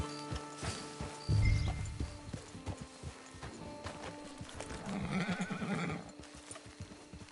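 A horse in the video game Red Dead Redemption 2 Online whinnies loudly over clip-clopping hooves, then another neigh rises near the end amid scattered clattering and ambient sounds.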